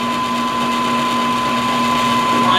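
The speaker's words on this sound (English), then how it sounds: "we're probably reaming a little bit fast" A reamer turns through holes in an AK rifle center support, probably on a drill press, giving a steady, even mechanical whine that holds unbroken throughout, close and alone with no talk.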